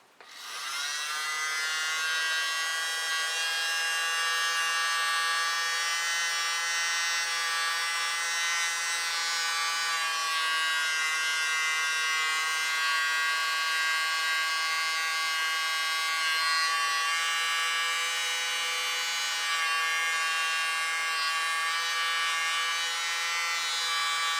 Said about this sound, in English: let's try the blower